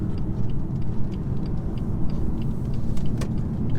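A 2017 BMW 435d xDrive accelerates hard from about 50 in seventh gear, giving a loud, steady low engine drone from inside the cabin, with faint ticking above it and no talk.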